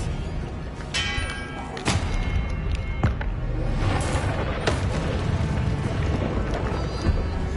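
An Expelliarmus spell cast in a video game comes through as a few heavy booming thuds spaced a second or so apart, each followed by clattering, over a steady rumbling background.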